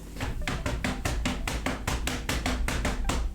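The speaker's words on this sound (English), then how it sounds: "That's the sound of feet slapping on the ground." Rapid, evenly spaced slaps of feet hitting the ground, about four per second, fairly close and continuing without pause.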